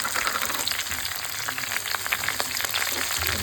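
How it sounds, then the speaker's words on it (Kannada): Stuffed ridge gourd frying in a little oil, a dense, steady sizzle with fine crackling pops, close and continuous, with no voices. "ಇದನ್ನು ಸ್ವಲ್ಪ ಎಣ್ಣೆ ಮೇಲೆ ಫ್ರೈ ಮಾಡಬೇಕು"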